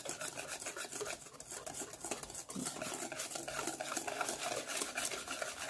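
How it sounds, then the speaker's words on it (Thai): Egg being beaten into butter for salted egg wheatgrass cookie dough, a continuous fast scraping and whisking rhythm of utensil against bowl, close and steady throughout. "ทีละไข่รวมกับเนยจะได้ไม่แยกชั้นนะคะค่อยๆตีเข้าไปค่ะ"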